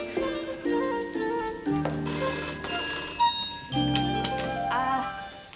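A telephone bell rings in a domestic room, sounding in repeated bursts of bright metallic trilling that stand out loud and close, with only brief gaps between rings.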